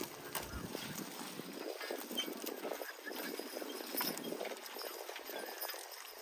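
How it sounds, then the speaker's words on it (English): Big gray draft horses, a team hitched to a walking plow at a plow day, walk along with a steady, fairly quiet clip-clop of hooves against a light outdoor background. "Now here comes the big gray horses."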